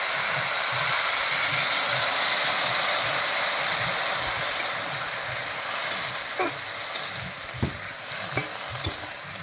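Water pours and splashes into a hot pan of curry with taro stolons and pakal fish, a steady broadband rush that sizzles, then breaks into a few sharper splashes and clinks toward the end.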